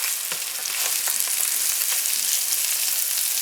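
Sausages brown in a hot frying pan with a loud, dense sizzle of spitting oil and occasional small crackles and stirring taps, close and steady throughout, with no talking.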